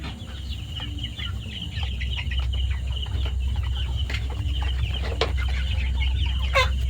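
Chickens cluck steadily on a poultry farm, several birds overlapping near and far over a constant low hum, with a few sharper calls standing out toward the end.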